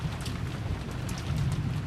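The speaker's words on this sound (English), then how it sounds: "and the sound of the falling rain and wind." Rain and wind ambience from the Umineko visual novel game, a steady hiss of falling rain with a low rumbling wind bed, continuous and even throughout, with no voices.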